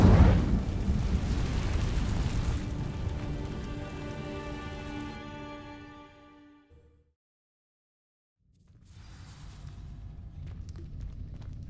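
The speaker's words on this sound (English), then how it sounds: "These dry vines are one spark away from becoming kindling." An Incendio fire spell sets dry vines ablaze in Hogwarts Legacy, a loud rushing crackle with tonal magic shimmer that sustains for several seconds, fades to silence, then returns as a softer ambient rumble.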